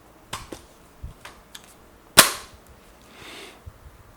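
An SKS rifle cleaning kit is pushed back into the rifle's buttstock, giving a series of light clicks and taps capped by one sharp metallic snap, close and distinct against a quiet background.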